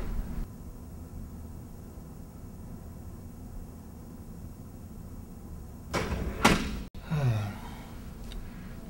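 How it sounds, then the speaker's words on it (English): A door in an interrogation room swings shut after a low background hum, with a couple of sharp bangs and a brief rattle, moderately loud and close. "And do close the door on your way out."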